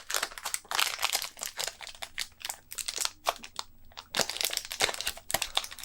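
Crinkly plastic shrink-wrap being peeled and crushed off a new Game Boy cartridge box, a close, steady run of sharp crackles and crunches with no talking.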